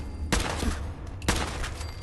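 Gunfire in Fallout 4, two sharp, loud shots about a second apart, each with a brief ringing tail over low background noise.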